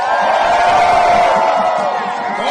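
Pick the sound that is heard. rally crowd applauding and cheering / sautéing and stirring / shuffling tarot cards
rally crowd applauding and cheering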